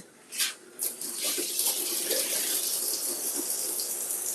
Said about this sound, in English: Hold on, yeah, I'm finna start my shower.